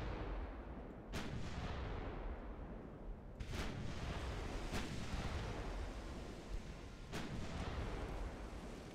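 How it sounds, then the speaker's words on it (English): Naval gun volley from 3-inch guns along a warship's side in a dreadnought-era naval battle game: several sharp booming shots spaced a second or two apart over a steady rumbling battle din, loud and close. "Just the volley of 3-inch guns along the side."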